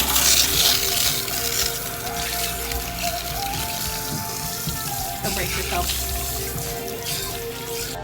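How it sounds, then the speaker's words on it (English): Cool tap water runs steadily while 3A–3C curly hair is rinsed, a constant close splashing rush, with a voice speaking briefly over it. "I'm gonna rinse this in cool water."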